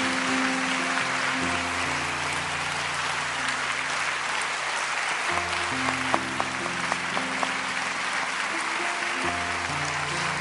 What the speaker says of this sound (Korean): 다시 한번 우리 큰 박수로 우리 목사님과 여러분 축복합니다.